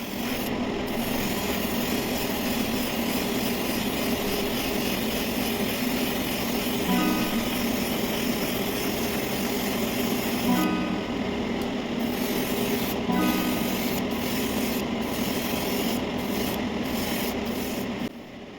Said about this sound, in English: now are ready for airbrushing the primer. Regarding primer, I shall be using 2K primer, and my airbrush is an Iwata Revolution